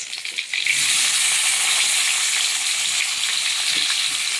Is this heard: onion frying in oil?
yes